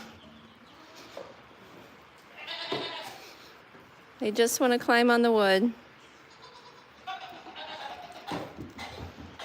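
Baby goats bleat in a loud, wavering burst of several cries at close range around the middle, inside a barn near a wood pile, with a person talking softly before and after.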